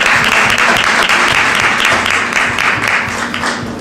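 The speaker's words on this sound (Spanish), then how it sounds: "interesante ese aplauso para..." Loud, dense audience applause after a talk on the diablada dance, sustained energetic clapping close to the microphone that eases slightly toward the end, with faint voices mixed in.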